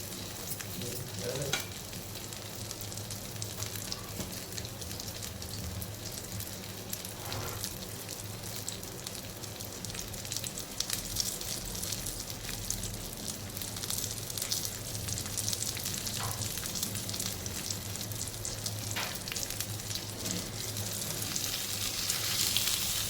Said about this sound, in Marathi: दुसरे पण जे बोंबील आपले पापलेट राहिले ते फ्राय करून घेऊया